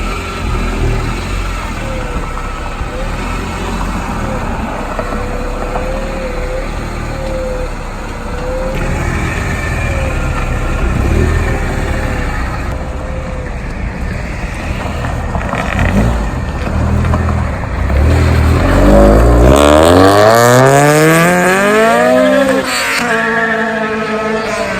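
An EM2 Honda Civic with a turbo K20 engine swap idles steadily with a mid-pitched drone, then revs up sharply near the end as it pulls away, loud and close.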